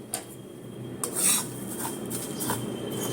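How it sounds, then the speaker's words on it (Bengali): Mustard seeds frying briefly in a pan with fenugreek for a quick mango pickle: scattered sharp crackles and scraping stir strokes over a low background hiss, close and irregular. "ওটা ভাজছি, এবারে দেবো সর্ষে। সর্ষেটাকে অল্প ভাজবো।"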